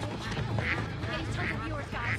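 Ducks quack repeatedly in a duck slaughterhouse, three or four distinct calls at a steady pace amid a dense background of many birds, under a person talking.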